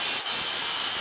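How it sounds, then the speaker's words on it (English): A tool cuts through the metal tabs on a 1949 Spartan Manor trailer with a continuous harsh, hissing grind at close range, steady and loud for the whole moment. "So you can see I'm cutting off most of the height of these tabs."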